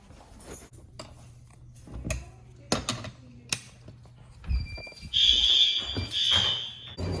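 An elementary school fire alarm sounds during a test, a loud, piercing high-pitched tone that cuts in after several clunks and taps of handling and equipment, then holds steady and pulses.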